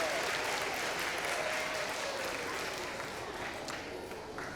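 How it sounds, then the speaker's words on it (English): A crowd at a school reading challenge event gives a steady, full round of applause, dense clapping holding at an even level throughout with faint voices mixed in. "Give him a big round of applause"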